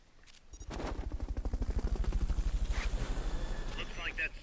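The Fulton recovery helicopter in the video game Metal Gear Solid Peace Walker gives a steady, close, rapid rotor thumping that holds an even pulse throughout, with brief higher clatter near the end.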